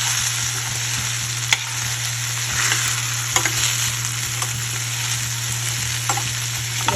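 Mango pieces for a wedding-style pickle sizzle and fry steadily in a pan, a continuous bright crackle with occasional sharper pops, close and loud, with no voices.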